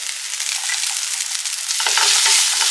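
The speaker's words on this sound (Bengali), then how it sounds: "এবার এটা ভালো করে আমি একটু ফ্রাই করে নিচ্ছি" Onion, tomato, garlic, ginger, green chilli, cashews and almonds fry in a pan with a steady close sizzle, the crackle growing a little louder and brighter toward the end, with no voices.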